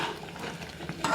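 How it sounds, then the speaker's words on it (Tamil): A sweet mixture for cake boils and foams in a pan while being stirred, a faint bubbling sizzle with soft scraping strokes throughout, slightly louder at the end. "இப்போ நுரைக்குதில்ல, அப்போ கொதிக்குதில்ல,"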